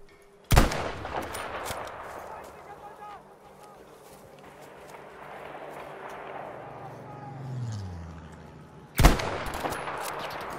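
Two sharp, loud gunshots from the Battlefield V video game, one near the start and one near the end, separated by quieter in-game ambience and a low engine-like hum, with a player talking.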